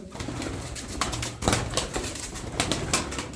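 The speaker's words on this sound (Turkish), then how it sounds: "Uçan kuşlar." Tumbler pigeons fly overhead in a flock, their wings flapping and clattering in close, irregular bursts over a soft cooing background, with no voices.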